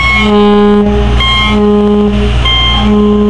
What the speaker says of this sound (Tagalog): Yan, mga paus na busina.